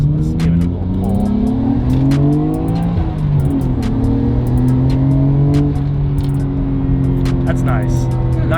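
A stock RB engine in a Nissan Skyline R33 GTR revs hard during a canyon drive, its loud engine note rising and falling through gears with a steady road roar underneath.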